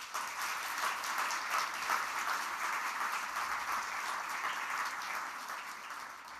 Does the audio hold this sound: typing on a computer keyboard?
no